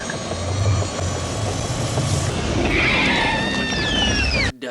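A helicopter flies in a film scene, its rotor and engine drone steady and fairly loud, with a rising whine and whistling tones partway through before the sound cuts off abruptly.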